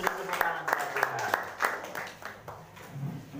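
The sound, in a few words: congregation applauding in church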